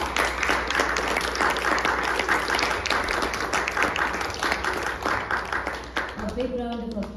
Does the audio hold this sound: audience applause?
yes